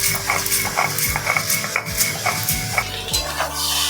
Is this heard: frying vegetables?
yes